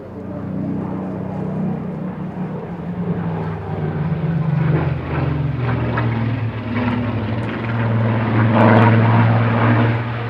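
Propeller fighter aircraft fly past at the Eastbourne airshow, a loud, steady engine drone that holds for the whole stretch and swells slightly as the planes pass.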